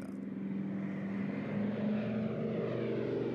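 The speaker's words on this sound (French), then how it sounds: "Le DC-3 fit son premier vol en 1935" A Douglas DC-3 propeller airliner flies past with a steady, continuous engine drone and low harmonic hum, loud and sustained throughout without voices.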